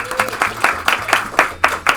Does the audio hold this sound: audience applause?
yes